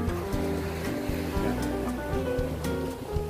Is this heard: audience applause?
no